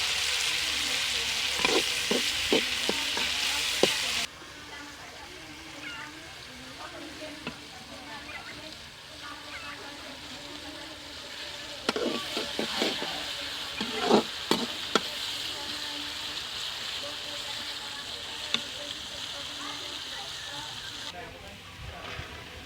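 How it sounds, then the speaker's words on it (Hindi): Onions fry in hot ghee with a steady broadband sizzle, broken by bursts of scraping stirring strokes near the start and again midway; a voice speaks faintly in the background. "घी हमारा गर्म हो गया, इसमें हम डाल देंगे प्याज। प्याज का कलर हमने चेंज करना है।"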